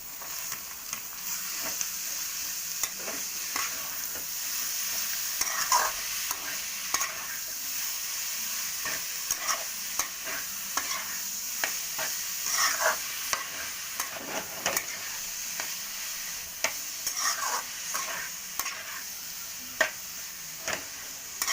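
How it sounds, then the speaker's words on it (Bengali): Minced mutton keema frying with ginger, garlic and green chilli paste, a steady hissing sizzle broken by repeated scraping clicks of a spatula stirring against the pan, close and moderately loud with no voices. "একটু নাড়াচাড়া করার পরে এর মধ্যে আমি দিয়ে দেব কিমা, মটন কিমা।"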